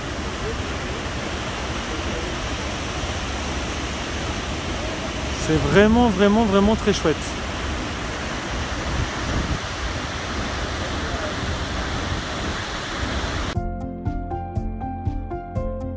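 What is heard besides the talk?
Ouzoud waterfalls, Morocco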